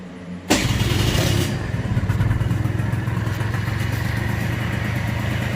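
A 1987 Honda Elite 50S scooter fitted with a Malossi big bore kit, running slightly rich, starts with a sharp catch and settles into a fast, buzzy, throaty small-engine run, close and steady, with a brief rev near the start.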